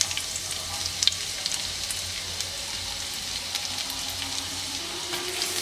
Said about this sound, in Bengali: এখন এর মধ্যে আমি দিয়ে দিচ্ছি আদা রসুন কুচি